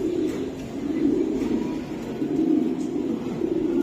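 Racing club pigeons coo in low, throaty, repeated murmurs that form a steady burbling layer close by, with no talk.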